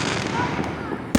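Distant Fourth of July fireworks rumble in a neighborhood while a voice talks over them, ending with one loud close bang.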